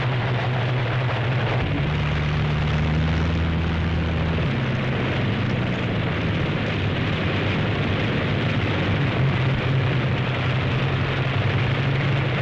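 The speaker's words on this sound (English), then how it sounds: "Six minutes after the first engine starts, the first squadron must begin to take off." P-47 Thunderbolt fighter planes starting engines and taking off, a dense steady roar of many propeller engines with a deeper drone swelling early on, continuous and loud without talk.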